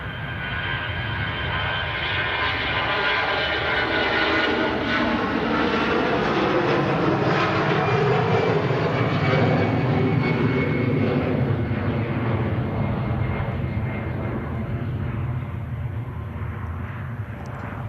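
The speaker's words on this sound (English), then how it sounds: "Shouty CFM engines. Yeah, make a nice noise when they're on full," Airliner with CFM engines at full power at Manchester Airport, a loud, rising and falling jet roar that swells past and fades, with no voices over it.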